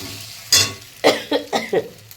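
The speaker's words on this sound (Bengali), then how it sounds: "এই ডিমটাকে ঝুরো ঝুরো করে ভেজে দেবো" A spatula scrambles an egg in a hot pan in four or five quick strokes, each with a short sizzle, close by and fairly loud.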